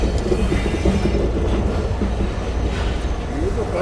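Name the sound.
Millat Express train running on rails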